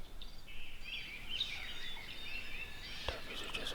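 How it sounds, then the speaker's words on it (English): Faint wild turkey hens yelping in the distance over a steady outdoor hiss with no talking, on public land in Wisconsin. "Hens are still yelping a little bit over my shoulder here."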